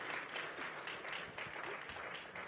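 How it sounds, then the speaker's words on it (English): Audience at a skills and education forum gives a round of applause, a quiet, somewhat distant patter of many hands clapping with a soft pulsing rhythm. "Please, a warm round of applause, please."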